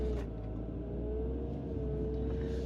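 A car engine hums steadily at close range with a low rumble and a faint tonal drone, sounding like a vehicle idling or rolling slowly before a turn, with no talk.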